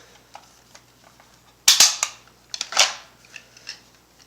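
Umarex Legends MP40 .177 CO2 air gun fired on full auto, a couple of sharp cracking bursts of rapid shots around the middle, with quieter mechanical clicks before and after, close and loud with no talking.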